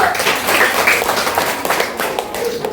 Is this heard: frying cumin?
no